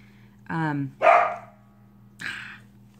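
A pet dog indoors gives a few short barks and yelps, the first with a whining pitch, spaced out over a steady low electrical hum.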